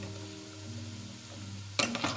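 Masala stirred in a pan for paneer curry, a steady low frying hum with faint scraping, then a sharper burst of clatter and sizzle near the end.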